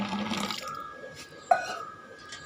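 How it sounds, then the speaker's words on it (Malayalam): Boiling hot water poured over bathroom slippers to clean them, a short close splash and gush of liquid that fades to a light trickle and drip within a couple of seconds, with no talking. "ചെരുപ്പ് മുങ്ങി കിടക്കാൻ പാകത്തിൽ വെള്ളം നല്ല ചൂട് വെള്ളം ഒഴിക്കുക"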